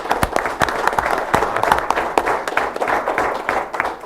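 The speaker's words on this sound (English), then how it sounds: "Round of applause for Tucker." A small crowd at a town council meeting inauguration claps steadily for a few seconds, a dense patter of hands without any talking over it.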